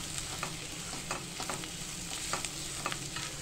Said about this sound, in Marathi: लसूण खोबऱ्याची पेस्ट आपल्याला छानपैकी अशी खरपूस आता भाजून घ्यायची आहे